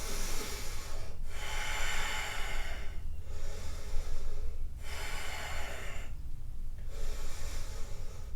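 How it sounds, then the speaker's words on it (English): Four slow, deep breaths taken in a yoga high lunge, each a long airy inhale and exhale with brief quiet gaps between, close and steady with no talking. "And we'll take 3 nice deep breaths here."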